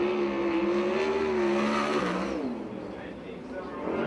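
A USAC/CRA sprint car running its first qualifying lap at the Perris, California fairground oval, its engine pitch whining and shifting as it passes, with an announcer talking over it.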